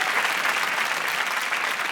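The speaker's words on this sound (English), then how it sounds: "Give him a round of applause." Steady audience applause in a British comedy panel show studio at Christmas, a dense, even wash of clapping holding at one level throughout.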